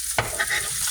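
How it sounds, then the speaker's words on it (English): Eggs frying in a hot pan with a soft sizzle, broken by a short scrape of a spoon or fork stirring, close and brief. "and then we got eggs, frying"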